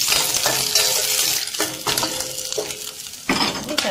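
Sliced onion, garlic and green chilli fry in hot oil for an idli Manchurian, a steady broadband sizzle broken by a few clinks of a spoon or ladle against the pan.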